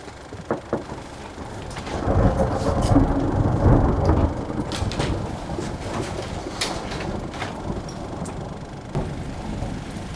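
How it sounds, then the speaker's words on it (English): Rain and thunderstorm sound effect: a broad, steady wash of rain with a low rumble of thunder swelling in the early seconds, while scattered birdlike coos and knocks sit on top, and no one speaks. "The sound of rain, which I had hoped would cover our footfalls"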